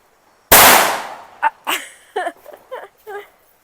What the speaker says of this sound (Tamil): நம்ம இப்ப வெடி வெடிக்க போறோம்